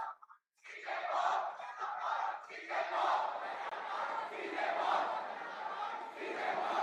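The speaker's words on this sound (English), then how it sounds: "Please let us give them a huge round of applause before we start." Audience at a live esports chess finals event in India applauds and cheers, a dense continuous roar of clapping and voices that starts abruptly after a brief pause and stays loud throughout.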